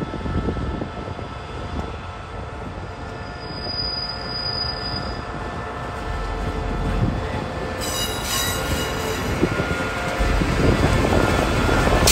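A locomotive rumbles steadily along the track running around its container train at a seaport, with low mechanical noise, and a faint high squeal joins briefly midway before the rolling grows slightly louder.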